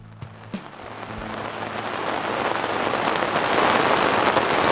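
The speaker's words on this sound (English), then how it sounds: "A storm just broke loose." Heavy rain from a storm breaking over La Gomera in the Canary Islands, a dense, loud hiss of drops on surfaces that builds steadily and stays constant, with a few faint knocks at the start.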